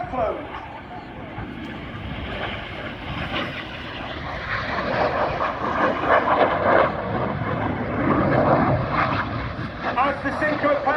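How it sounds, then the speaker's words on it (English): Red Arrows jets of the RAF flying the Cyclone display manoeuvre at the Royal International Air Tattoo, a distant swelling jet roar rising and falling under a commentator's voice. "As the synchro pair now turn towards each other to finish off the manoeuvre called Cyclone."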